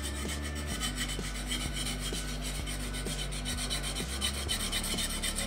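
Rhythmic rasping strokes of a woodturning tool edge being sharpened back and forth, steady and close, several passes in a row with no talking.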